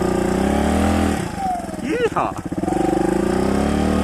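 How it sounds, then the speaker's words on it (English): A 2015 Suzuki DR200 air-cooled motorcycle engine runs loud and close at high RPM with a steady buzzing drone, dipping and wavering midway as a rider whoops over it. "the old air-cooled bike doesn't like going that slow at high RPM"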